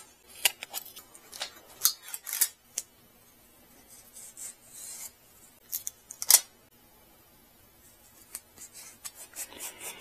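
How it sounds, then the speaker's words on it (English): Scissors cutting strips of material for mounting a boost/vacuum gauge in a mini-truck, heard as a string of close, crisp snips in irregular bursts with short quiet gaps between them. "I'll cut 3 strips"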